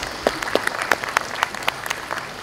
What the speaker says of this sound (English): Give a big round of applause for ICSI partners.